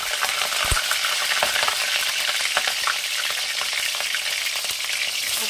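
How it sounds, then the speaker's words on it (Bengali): Chopped cauliflower, still wet from washing, frying in hot oil in a pan, a steady loud crackling sizzle with sharp spitting pops throughout and no talk. "তেল গরম হয়ে গেছে, এবার আমি ভেজে নেব। আমি যে কিরকম কুচি করে রেখেছি ফুলকপি দিয়ে দেবো"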